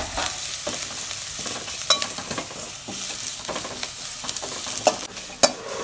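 Ridge gourd peel sautéing in a pan, with a steady sizzle and repeated close scrapes and taps of a spatula stirring it, plus a couple of sharper clinks near the end.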